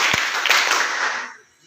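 Many people clap in unison as part of a counted clapping chant, with a sharp thump near the start followed by a thick wash of hand claps that tails off quickly.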